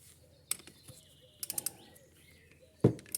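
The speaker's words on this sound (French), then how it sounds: "Un cliquet." A ratchet on a 14 mm socket with a long extension loosens a bolt under a Nissan X-Trail T30, giving a few short, faint clicking bursts against quiet surroundings.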